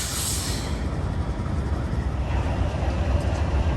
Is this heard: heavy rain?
no